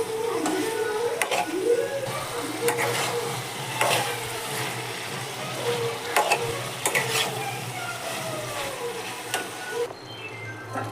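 Chicken fries in a pan with tomato and ginger, a steady close sizzle broken by repeated scraping strokes of a spoon stirring against the metal.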